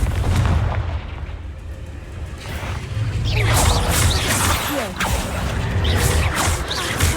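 Repeated Confringo fire spells in the Hogwarts Legacy video game burst as loud booming blasts, one after another over continuous combat noise, with crackling impacts and swishing effects layered throughout.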